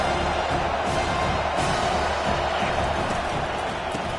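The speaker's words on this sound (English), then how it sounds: "Listen to this crowd just shaking the girders of this place" A large college football stadium crowd in a video game roars steadily in a dense, loud wash of cheering that holds throughout without a break.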